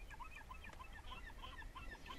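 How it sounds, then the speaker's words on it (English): Gulls call over and over on a misty Cape Cod shore, their short, bright cries coming quickly one after another. A steady wash of low surf or wind noise lies beneath them, and no one speaks. "But hearing the gulls and not seeing them"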